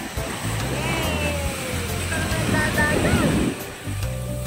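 Waves wash onto a sandy beach in a steady, close rushing surge that swells and recedes, with voices and a child's chatter faintly over the water.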